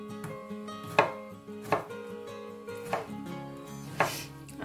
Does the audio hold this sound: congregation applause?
no